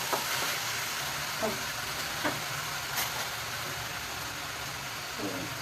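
Onion frying in a pan toward golden brown for a paneer curry, a soft steady sizzle broken by occasional light utensil knocks.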